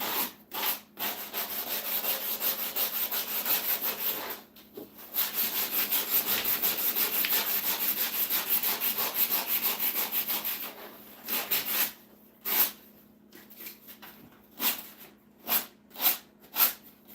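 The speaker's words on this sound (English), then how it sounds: "So that's going to take some hand sanding" Wood is sanded by hand after routing, with close, raspy rubbing strokes, first in long continuous passes and then in short rhythmic back-and-forth swipes toward the end.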